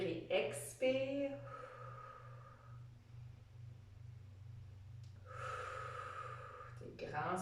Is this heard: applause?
no